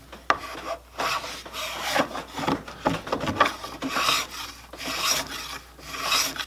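A spokeshave shapes the wooden neck of an acoustic guitar in a workshop, making repeated close, raspy scraping strokes in an uneven rhythm, each shaving pass rising and falling with no one speaking.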